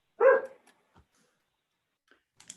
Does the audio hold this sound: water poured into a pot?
no